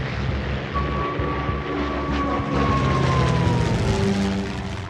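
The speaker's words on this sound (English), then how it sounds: "In just 30 minutes, these planes will be over the Kent coast." World War II warplanes passing overhead, a loud continuous engine drone with a steady tonal whine that slowly bends in pitch as the aircraft go by.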